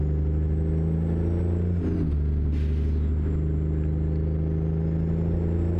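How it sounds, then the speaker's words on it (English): Low, throbbing diesel rumble of a 389 truck in American Truck Simulator, engine straining at low RPM with the clutch let out; the drone holds steady with a brief dip in pitch partway through and a short airy hiss. "Happens when I let out the clutch and the engine's under low RPM load."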